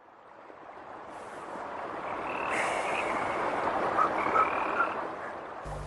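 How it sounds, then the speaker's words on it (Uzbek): A frog croaks repeatedly at night, clear rhythmic calls close by, rising slightly in loudness with faint ambient hiss behind and no talking. "Bu oddiy qurbaqa-ku."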